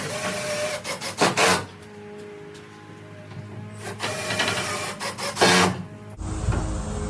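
A cordless drill drives screws while a window frame is installed, whirring loudly in a few short bursts and one longer run, with quieter gaps and handling noise between.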